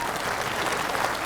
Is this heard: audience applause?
yes